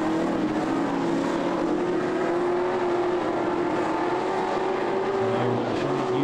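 AMCA race car engines drone steadily at high revs at Lismore Speedway, a continuous loud mechanical roar of the lead cars running together at speed.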